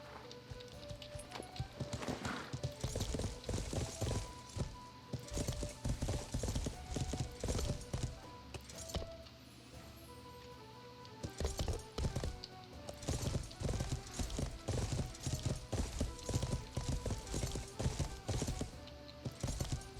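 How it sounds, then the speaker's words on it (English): A horse's hooves clip-clop in the video game Life is Feudal, in repeated rhythmic bursts of close, crisp hoofbeats with short pauses, over a faint tonal background. "Horse is trying to hide from me."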